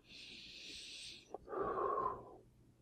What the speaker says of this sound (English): Take your medicine, relax, take a couple of deep breaths.